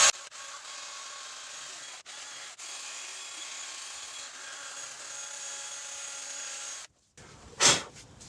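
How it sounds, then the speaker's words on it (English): A wire brush scrubs the rusted hub surface on a Chevrolet/GMC full-size truck wheel hub, a steady, faint scratchy rasping with brief pauses, then stopping before a short final scrape. "I'm gonna use the wire brush."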